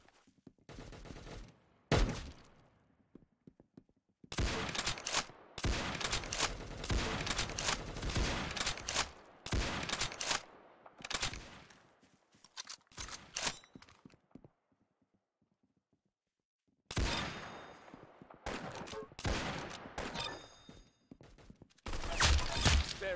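Gunfire rings out in a Roblox Arsenal match, coming in loud bursts of rapid shots separated by silent pauses, with a few clusters of quick clattering reports.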